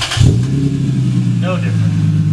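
A Toyota GS300 with a newly installed downpipe cranks and fires, settling into a loud, steady idle with a deep rumbling exhaust close by, and a voice speaks briefly over it.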